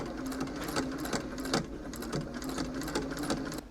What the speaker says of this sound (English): Now I'm going to stitch right on the edge.